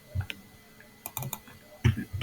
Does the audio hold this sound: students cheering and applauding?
no